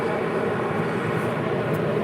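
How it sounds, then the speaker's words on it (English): Steady broadband jet engine roar from a Boeing 747 airliner, loud and continuous with a rumbling low end, as thrust reversers build thrust during a landing rollout. "He's getting on those thrust reversers."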